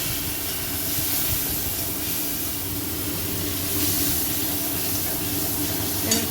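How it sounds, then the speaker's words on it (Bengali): Nigella seeds sizzle in hot oil as they temper in a pan, a steady, dense hiss that lasts throughout at an even level, with no voices. "এখানে এই তেলের মধ্যে একটু কালো জিরে ফোড়ন দিয়ে দিলাম।"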